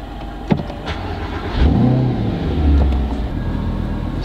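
A Mercedes SLS AMG engine starts up and settles into a deep, throaty rumble that swells and holds, close by, with no talking.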